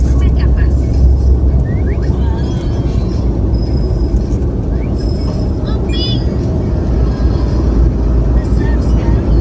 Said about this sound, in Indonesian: macet parah.